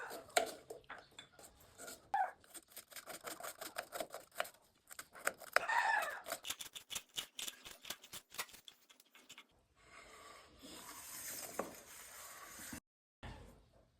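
A knife finely chops onion on a board in a rapid run of crisp, close taps, pausing briefly before a softer rustle follows near the end.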